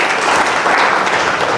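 Audience applause during a speech event, a dense, loud burst of clapping lasting a couple of seconds with no talk over it.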